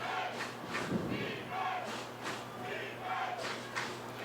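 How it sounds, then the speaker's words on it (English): Home crowd at an ECFL semi-pro football game between the Marshfield Hurricanes and Rhode Island Cowboys roars and cheers in waves late in the contest, a broad sustained stadium noise with swelling shouts. "So the crowd really getting into it here, trying to urge the Hurricanes to this win."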